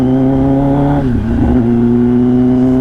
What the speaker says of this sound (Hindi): फनी गाड़ी है भाई, फनी बाइक है, सॉरी।